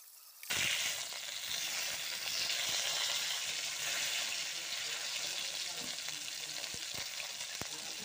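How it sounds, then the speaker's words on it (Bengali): Two tilapia fish frying in oil on a clay stove, a steady close sizzle and crackle that bursts in after a brief quiet start and carries on evenly, with occasional sharper pops. "তো দুটো মাছ দিয়ে তেলে আমি ফ্রাই করতেছি"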